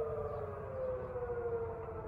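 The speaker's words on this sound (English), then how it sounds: "They sounded out their house siren" The Feasterville Fire Company's house siren wails steadily for the Santa Run, a sustained, slowly sliding tone that carries across the area with no voices over it.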